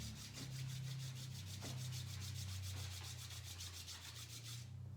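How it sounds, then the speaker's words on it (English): Palms rub briskly together in a fast, steady back-and-forth rhythm of soft, close friction strokes over a low background hum, ending with a brief heavier rustle. "Rub your palms together."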